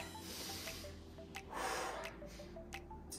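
Close, quiet sniffing and snorting breaths come in a few short bursts during a low-impact workout, over a soft steady background.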